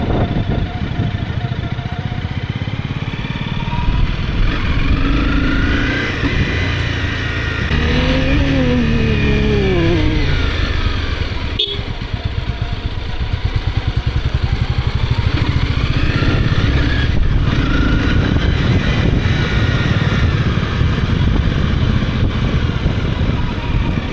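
Honda CBR250R motorcycle coming downhill in first and second gear on engine braking, a loud, continuous close engine drone with shifting pitch and wind noise throughout.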